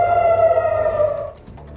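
An air raid siren wails in Tel Aviv with a loud sustained tone that drops away near the end, leaving fainter background noise.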